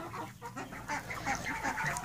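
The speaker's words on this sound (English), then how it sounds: "this is where we keep our ducks at now" Ducks kept in a barn coop call out in a dense, overlapping run of quacks and honks, fairly close and steady throughout, with no one talking.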